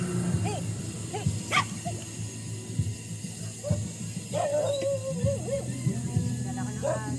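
A dog barks in short, repeated yips and woofs during an outdoor meal gathering, fairly close, scattered across the clip with some whimpering and voices in the background.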